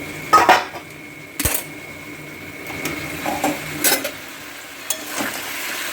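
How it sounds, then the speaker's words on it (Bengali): A lid lifted off a pot of thin katla fish curry with bottle gourd stems and ridge gourd, giving a sharp metallic clank followed by a few lighter pot and utensil clinks over low simmering, close and alone. "তো দেখো বন্ধুরা, এবারে আমি ঢাকাটা খুলছি"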